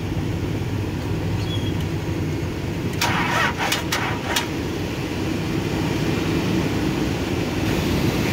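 A vehicle engine cranks in a few quick bursts over a steady, close mechanical running rumble, with no talking.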